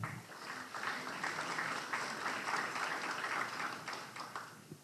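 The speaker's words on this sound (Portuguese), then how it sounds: "Vamos aplaudir Marcos Hermann" Audience at a Brazilian internet congress presentation applauds an engineer, a soft, distant wash of steady clapping for about five seconds.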